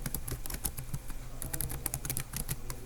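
Fast typing on a computer keyboard, a dense run of crisp key clicks in an irregular rhythm, close and steady with no voices over it.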